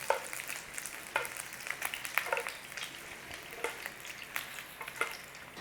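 Sausages browning in a frying pan give a steady, soft sizzle with scattered crackles and the odd utensil stir, close and fairly quiet with no talking.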